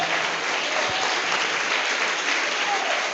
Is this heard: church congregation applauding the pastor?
yes